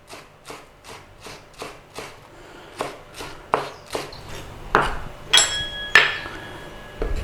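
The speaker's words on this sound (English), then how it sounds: "we need to take some spring onion for garnish. So nice and steady across the spring onion" A knife chops spring onion on a board in a steady series of crisp taps, about a dozen evenly spaced cuts growing slightly louder, with a couple of bright clinks near the end and no talk.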